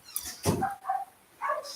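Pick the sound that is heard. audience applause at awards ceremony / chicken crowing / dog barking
dog barking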